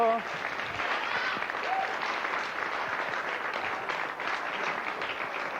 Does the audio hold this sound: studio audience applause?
yes